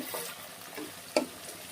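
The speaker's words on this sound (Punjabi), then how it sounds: "ਤੜਕਾ ਭੁੱਜ ਰਿਹਾ" Faint sizzling of cumin and finely chopped ginger tempering in hot oil for dal, with a single sharp clink of a utensil against the pan partway through.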